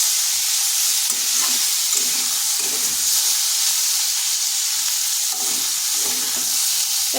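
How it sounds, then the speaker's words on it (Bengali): Ivy gourd (kundri) fries in a pan with a steady, loud, unbroken sizzle and hiss that stays close and even the whole way, broken only by a few faint stirring scrapes. "কুঁদরিটাকে একটু ভাজা ভাজা করে নেব।"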